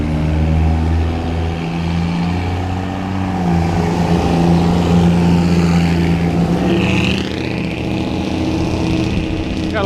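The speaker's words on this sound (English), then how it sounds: "Got a lot of assholes that don't think they need mufflers." Loud unmuffled car roaring past on a Dallas street, a deep rumbling engine note that swells and fades across several seconds, heard up close from the sidewalk amid traffic noise.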